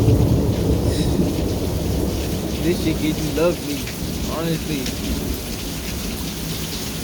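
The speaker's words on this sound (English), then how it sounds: "listen to the rain" Steady rain falls outdoors with rumbles of thunder rolling underneath, a dense continuous wash of sound throughout, while someone speaks casually over it.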